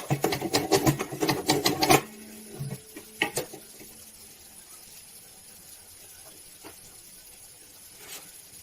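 Eyeglass lens edging machine grinding a lens, a loud buzzing rattle for about two seconds that stops abruptly, followed by a few faint clicks and a quiet hiss.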